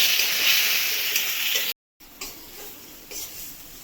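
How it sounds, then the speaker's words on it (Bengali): Spice masala for a Bengali katla fish kalia sautéing in oil, a steady close sizzle with faint stirring ticks, broken by a brief silent gap before the frying resumes more quietly. "দিয়ে ভালো করে কষাতে হবে যতক্ষণ পর্যন্ত তেল মশলা থেকে ছেড়ে না যাচ্ছে, ততক্ষণ এটাকে কষাতে হবে।"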